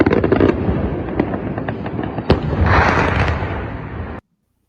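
Missile strikes in the Chernovtsi area of western Ukraine are heard as rumbling blasts and a sharp crack, then a sustained roaring boom, loud and distant, with no talking; the sound cuts off abruptly.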